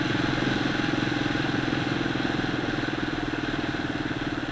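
A motorcycle engine drones steadily with a pulsing, mid-pitched throb while being ridden, close and continuous throughout with no speech.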